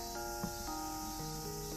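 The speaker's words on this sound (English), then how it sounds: "I could hear the cry of cicadas around me." Cicadas chirp on all sides in the video game Seabed: a steady, dense insect drone with sustained shrill tones and faint brief accents, holding at an even level throughout.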